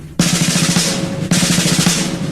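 Rapid nine-stroke snare roll played up to speed, two dense back-to-back bursts of tightly packed doubled strokes, loud and close with no voices.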